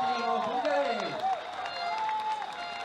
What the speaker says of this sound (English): Lots of support here from the crowd.